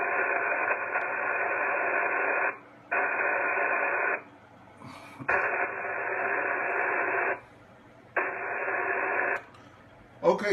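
HF ham radio receiver hiss with the squelch being adjusted, steady static bursts that cut off abruptly into near silence and return, cycling several times at moderate level.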